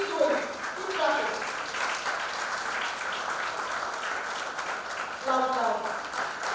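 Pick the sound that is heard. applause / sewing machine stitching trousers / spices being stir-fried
applause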